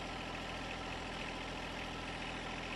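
A John Deere compact tractor engine idles with a steady, continuous low rumble, faint and unchanging throughout, with no voices.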